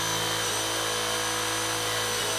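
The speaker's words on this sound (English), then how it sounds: "You can see already that the speed has increased in the drill" A power drill bores into material as it speeds up, a steady loud whirring whine with a constant hum, continuous throughout with no talk.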